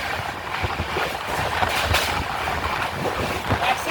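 Howrah–Bolpur Shantiniketan Express running at about 130 km/h, a steady loud rumble of wheels on rails with wind rush and periodic rhythmic clatter, heard from inside the train.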